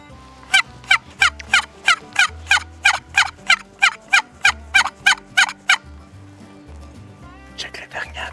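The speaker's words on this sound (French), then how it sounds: "il y a 5 énormes dindons dans le chemin en avant de nous" Several large wild turkeys on a path gobble in a steady run of about a dozen loud, evenly spaced calls, followed by a few quicker overlapping gobbles, with faint low rumble underneath.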